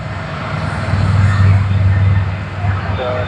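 China Airlines airliner from Taipei taxiing at Sydney Airport, a loud steady engine roar and low rumble holding throughout, with faint background chatter.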